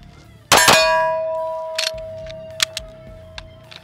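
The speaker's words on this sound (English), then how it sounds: "it makes this really loud, nice clanging noise" Ammunition rounds in a pocket give a sharp metallic clang that rings out loudly once with a lingering ring, followed by a few lighter clinks.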